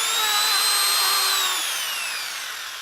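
A neighbour's power drill whines loudly and steadily nearby, its high motor pitch sliding downward as it winds down over about three seconds; no separate hammer blows stand out.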